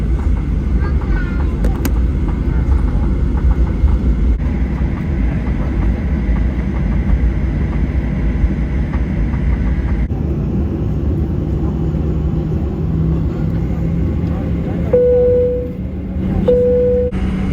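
Inside the economy cabin of a Virgin Australia Boeing 737-800 flying Brisbane to Melbourne, engines at takeoff fill the space with a loud, steady, low roar, and two short tones sound near the end.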